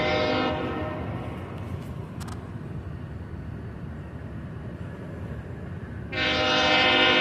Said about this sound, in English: Thought you wanted to hear a horn honking.